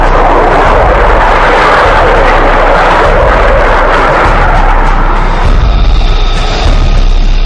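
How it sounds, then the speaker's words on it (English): An F-35 Joint Strike Fighter jet flies near Eglin Air Force Base on the Florida Gulf coast with a loud, continuous, rushing roar and deep rumble that swells and holds throughout, without any talk. "On the Gulf of Mexico at Florida's Eglin Air Force Base, the next generation of pilots is being taught to fly the Joint Strike Fighter."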